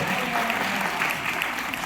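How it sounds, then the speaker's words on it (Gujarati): Steady applause from an audience at a Kutch Prajapati community cultural programme in Anjar, a dense even patter of clapping that holds throughout without a break. "થોડીક તાળી તો પડવી જોઈએ"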